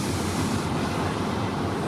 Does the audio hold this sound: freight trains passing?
yes